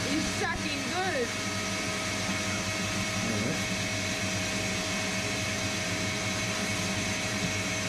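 Vacuum sucking up debris inside a boat hull during an engine installation, a steady, close droning whine that runs throughout, with a brief vocal sound near the start.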